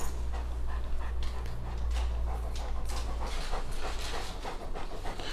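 Bernese Mountain Dog panting in quick rhythmic breaths, close but fairly faint, over a low steady background hum, with no talk.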